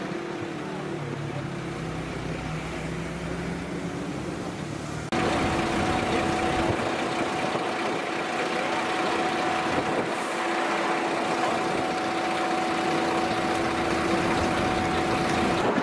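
A concrete mix lorry idles at a Blackpool building site beside a blue pump, with a waiting crane nearby; a steady low engine rumble with a pumping drone grows louder and more constant partway through, continuous and close.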